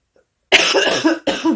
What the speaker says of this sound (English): I'm going to cough for a little bit, real good.